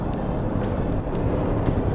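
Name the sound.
Chevrolet Tahoe engine accelerating at about 90 km/h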